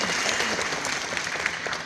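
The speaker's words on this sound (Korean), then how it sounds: "네, 박수 좀 많이 쳐주세요." Audience applause at a business talk in Jeju, a steady wash of many hands clapping close by for nearly two seconds with no voices over it.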